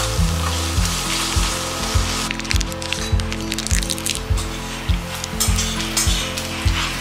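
Onions sizzle steadily in hot oil in a pan while being prepared for a Bengali malai curry, a loud, close, continuous frying hiss with occasional stirring scrapes and a low rhythmic thump running underneath.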